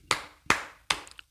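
Three slow, sharp hand claps ring out close by at an even pace, followed by a couple of faint light taps.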